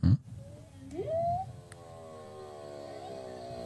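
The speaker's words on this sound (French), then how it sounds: "c'est le bruit d'une baleine" A faint, drawn-out rising moan with a tonal, whale-like quality, following a short thump, then fading into a low steady hum.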